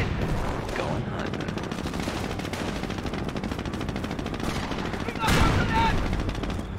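Sustained gunfire from the World War II strategy game Company of Heroes, set in Normandy at St. Lo, rattles in a dense continuous stream of shots, with a louder burst of fire near the end.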